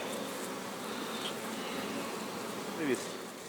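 A steady, low hum of many bees buzzing around white acacia in bloom fills the scene, faint and continuous, with an occasional single bee droning closer for a moment.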